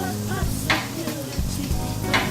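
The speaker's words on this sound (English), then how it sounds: "So as our salmon is cooking, I'm also listening. And it's beginning to talk less to me." Salmon fries in a pan for an oriental salmon and kale salad. The sizzle is steady and fairly loud, with a few light clinks and scrapes of a utensil against the pan.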